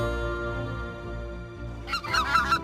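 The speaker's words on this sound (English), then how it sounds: "Grey-lag goose." Grey-lag geese honk, a burst of several nasal calls near the end following a low droning hum, moderately close and otherwise without talk.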